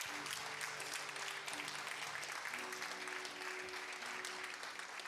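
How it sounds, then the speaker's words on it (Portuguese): Church congregation applauding during an evening service, a dense continuous wash of clapping from many hands filling the room, with faint voices and a sustained musical tone underneath. "Você pode aplaudir o Senhor nessa noite"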